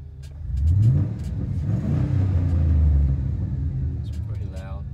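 Cabin drone of a 2004 Chevy truck with a 6.0 V8 and a Flowmaster Outlaw exhaust, a steady low rumble that swells as the engine revs, heard from inside the cab.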